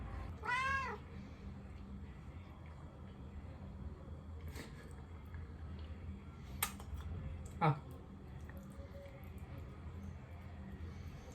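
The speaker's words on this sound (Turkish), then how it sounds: "Sen bir kedisin biliyorsun değil mi Kalp?" One clear cat meow rises near the start, then a quiet room with a few faint clicks and small knocks.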